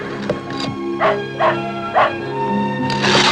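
A dog barks close by in short, sharp yaps, three or four spaced a half-second apart over a steady background hum, with a brief yelp at the end.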